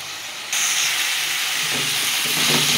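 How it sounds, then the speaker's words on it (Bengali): Radish greens fry over a high gas flame as their water cooks off, a loud continuous steamy hiss that jumps up suddenly and holds steady, with faint crackles beneath. "আমি গ্যাসের ফ্লেমটা একটু বাড়িয়ে দিয়েছি, জল বেরিয়েছে তো। আর শুকনো শুকনো করে ভাজবো।"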